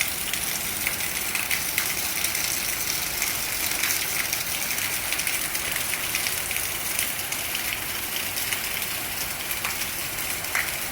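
Rain falls steadily over fields in the Malpur area, making a dense, even hiss that lasts throughout without pause, with no voices.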